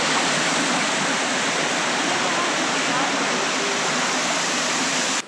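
Waterfall at Schönau am Königssee in the Bavarian Alps, a loud, steady broadband roar of falling water that fills the whole clip without pause, close and unbroken until it cuts off at the end.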